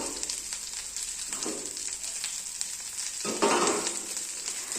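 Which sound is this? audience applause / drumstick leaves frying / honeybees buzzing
drumstick leaves frying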